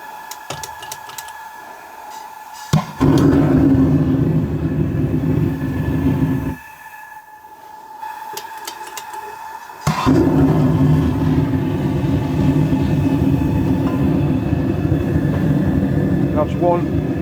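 A propane burner on a Vevor 12kg metal-melting furnace roars in loud steady bursts, cutting out briefly and then relighting, with sharp clicks and a voice talking over it.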